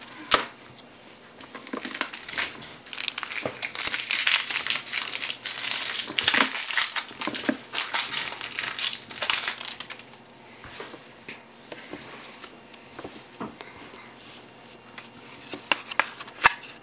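Crinkly plastic and cardboard of a Pokémon Arceus card blister pack being handled and torn open, steady close crinkling and rustling with sharp crackles throughout, easing off toward the end.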